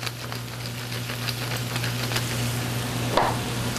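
Shrimp and vegetables seasoned with salt and pepper sizzle in a pan for seafood scampi, a steady close-up frying hiss with a brief utensil clatter near the end and no talking.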